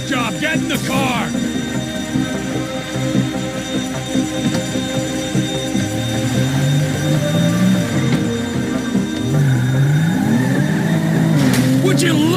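A car driving in the video game Grand Theft Auto 5 hums and revs steadily near by, its engine pitch rising and falling as it accelerates, with brief tire noise and people talking over it.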